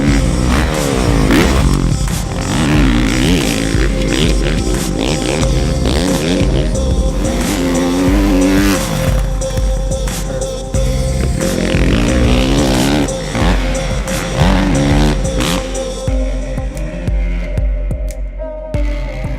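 A supercross motorcycle races around a dirt track, its engine revving loud and close with rising and falling throttle pulls and a throbbing exhaust, sustained for about twenty seconds.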